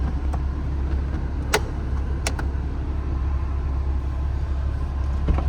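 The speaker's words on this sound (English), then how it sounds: "Go step out, listen to the engine, exhaust." A 2007 Porsche Cayman idles steadily with its engine and exhaust droning in a low, even rumble, close and continuous, with a few faint clicks on top and no talking.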